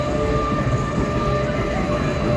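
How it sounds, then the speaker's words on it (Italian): Electric monorail train, about 30 meters long and running on an elevated track roughly 6 meters above the ground at a miniature-Italy park, rolls along in a steady, continuous hum and rumble heard from on board. "The monorail train we are traveling to is electrically powered"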